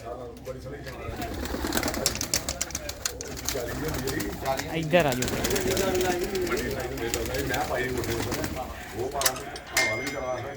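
A loft full of pigeons, kept as a hobby, fills the air with continuous low cooing and occasional flutters while someone speaks over them and directs someone to come closer.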